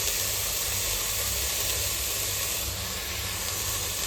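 Cauliflower and mixed vegetables steaming in a pan for masala pulao give off a loud, steady hiss and sizzle that continues without a break and with no talking.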